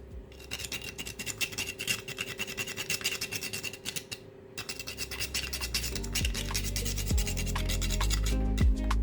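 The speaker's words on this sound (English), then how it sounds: "So I'll grate my nutmeg, about 1 teaspoon." Whole nutmeg scraped against a small grater makes steady, close raspy scratching strokes, pausing briefly midway, with a low kitchen hum beneath.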